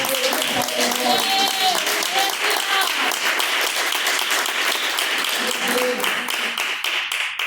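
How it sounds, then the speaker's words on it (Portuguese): Sustained applause from a church congregation fills the whole stretch, steady and loud, with voices mixed in underneath. "Pode bater palmas."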